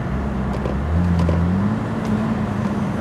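A BMW E36 fitted with an 8HP automatic transmission idles close by, and its engine note dips and rises as gears change, a steady mechanical hum with a brief shift in pitch and no voices.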